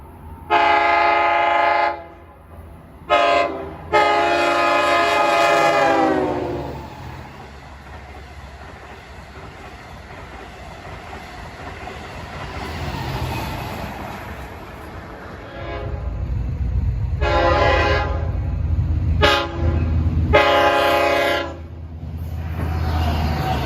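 A loud diesel locomotive horn on an LIRR DM30AC blasts in several long and short chords, with the rumble of a passing train between the blasts.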